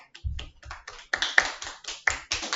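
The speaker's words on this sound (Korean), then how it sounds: "박수." Brief applause from a classroom of students after a math lesson, a short burst of hand claps with uneven rhythm, fairly close and moderately loud.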